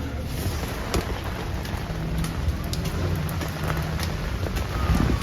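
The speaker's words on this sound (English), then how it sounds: "it is raining even more now" Heavy rain during flash flooding in New York City, September 29, 2023, hisses steadily across the whole clip, with a low rumble and some wind noise underneath; no voices.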